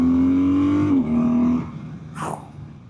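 A 2025 BMW R12 nineT motorcycle engine revs while riding, a loud rising and falling drone for about a second and a half, then the throttle eases off and the sound settles into quieter road noise.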